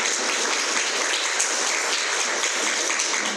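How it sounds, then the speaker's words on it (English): Audience applause for panelists at a talk on violence and the Voting Rights Act of 1965, a steady wash of many hands clapping, even and continuous, heard alone. "Please give a round of applause to our panelists."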